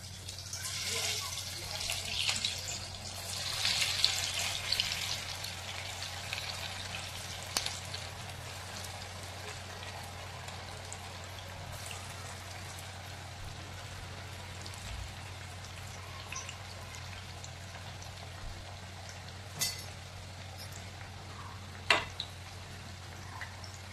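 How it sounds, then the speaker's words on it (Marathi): Thin aloo vadi slices dropped into hot oil give a soft, continuous sizzle and crackle, with scattered louder pops early on and a few later; faint and steady underneath. "आता आपण आळू वडी गरम तेलामध्ये तळायला सोडूयात।"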